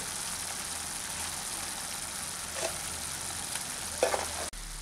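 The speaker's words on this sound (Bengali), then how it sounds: "এখন আমি এই মশলাটাকে খুব ভালো করে কষিয়ে নিচ্ছি" Spice masala for a vegetarian potato curry frying in a pan, a steady close sizzle with a few brief stirring scrapes toward the end.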